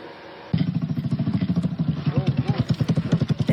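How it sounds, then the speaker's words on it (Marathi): A homemade motorcycle built from a bicycle in Kolhapur starts up and runs, its small engine chugging in a steady, rapid pulse close by, with a voice talking over it. "एका सायकलपासून बनवलेलं त्याने ही एक मोटरसायकल आहे."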